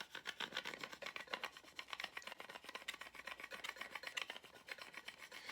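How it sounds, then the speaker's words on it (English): A vinyl decal is rubbed firmly onto a glass mason jar, giving a steady, close scratchy rasp in quick repeated strokes for several seconds, with no talking. "just start rubbing your jar"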